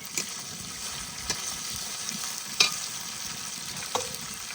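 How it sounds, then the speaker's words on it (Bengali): Chicken pieces land in a sizzling spice paste being fried over a low wood fire for a thin village-style curry, with steady crackling frying and a few sharp scraping stirs, close and fairly quiet, no talking. "এবার মাংস দিয়ে দেবো মশলার মধ্যে"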